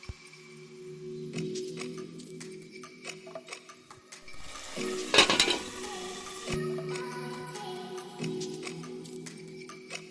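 Spices for a desi chicken curry with potatoes frying slowly over low heat in a pot, faint ticking sizzle with occasional stirring clinks and a louder burst of scraping midway, quiet and close.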